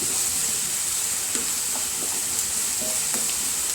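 Vegetables sautéing in a pan for upma, a soft continuous sizzle with faint scrapes and clicks of stirring, close and steady throughout, no voices.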